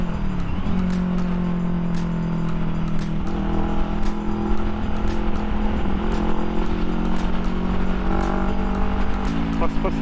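An NK400 motorcycle on a test ride runs with a steady, droning engine hum under constant wind rush, the pitch holding for several seconds before stepping up near the end.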